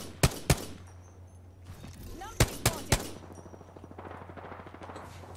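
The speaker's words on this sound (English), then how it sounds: "Yo, they're shooting each other." Distinct gunshots in Apex Legends, two quick cracks followed by three more, then a rapid patter of distant fire continuing under quiet background noise.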